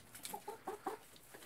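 Ogolgye and Cheonggye roosters cluck in a short run of close, clipped calls, several quick bursts in succession with no talk over them.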